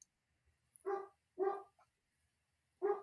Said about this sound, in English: Ghost dog.